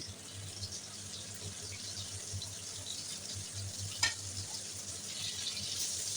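Hilsa fish fries in oil in a kadai, giving a continuous close sizzle and crackle broken by a single sharp utensil clink near the middle.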